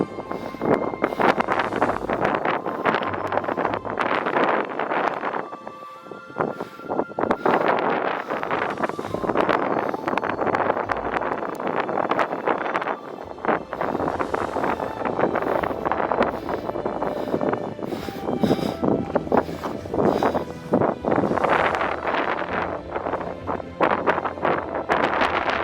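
Strong gusting wind buffets the microphone on the summit of Azuma-kofuji on a stormy day with a typhoon approaching, a loud, continuous roar rising and falling in bursts throughout, with no talking.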